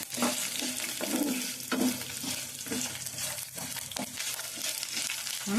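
Ingredients for tamarind pulihora fry and sizzle in a pan while being stirred, with repeated scraping strokes over a steady hiss, close and moderately loud.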